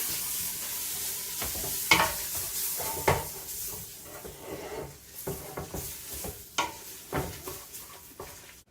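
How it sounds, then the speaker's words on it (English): A dark, almost black roux sizzles with onions and garlic in a gumbo pot, a loud hiss fading slowly while a utensil scrapes and knocks against the pot in uneven strokes. "you stick it in with your onions and garlic. And give that a little stir"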